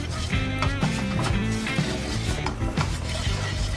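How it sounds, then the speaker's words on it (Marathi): Butter, salt and Kashmiri chili are stirred into oil in a pan, giving a steady scraping and clinking of the utensil against the metal with light sizzling, continuous and close. "मिक्स करून घेऊया चांगलं तेलामध्ये।"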